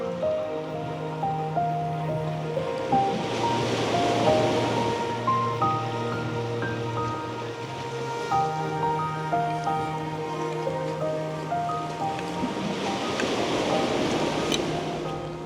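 Sea water pours and washes through rotted-away sea defences, a continuous rushing splash with surges of surf, heard close and alone beneath a steady low tone.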